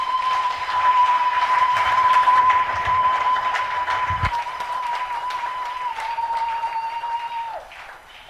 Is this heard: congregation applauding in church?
yes